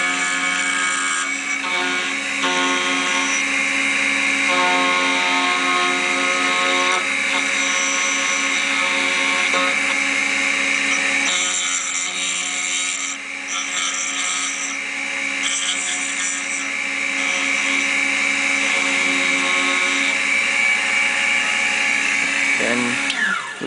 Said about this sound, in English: we can start the machine again starting at the tip, and then you just mow the key again